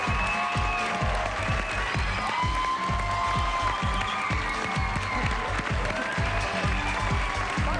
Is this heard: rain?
no